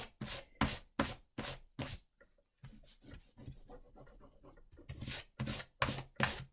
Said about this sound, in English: Let me rub out lines on this.